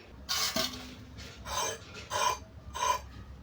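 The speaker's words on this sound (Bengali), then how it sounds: "তো চিচিঙ্গাগুলো তো কাটছি" Snake gourd being cut with a knife: four or five short, raspy slicing strokes, each separated by a brief pause, faint and close with no talk.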